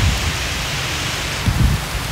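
Heavy rain pours down at an archaeological site in Hanoi's Thang Long Imperial Citadel, heard from shelter beneath a large tree: a dense, steady roar of downpour, loud and close, with no voices.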